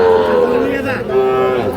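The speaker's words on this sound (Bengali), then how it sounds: "এটা একটা দেশাল জাতের ষাঁড় বাচ্চা" A local-breed bull calf about three months old moos at a livestock market, two long, loud, close calls in quick succession with a brief dip between them.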